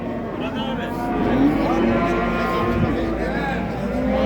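Cattle low and moo at a busy livestock market in Çorum, among Charolais calves and heifers, the calls rising over a steady crowd murmur with people talking nearby throughout.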